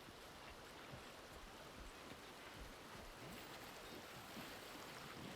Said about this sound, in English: How loud is this water?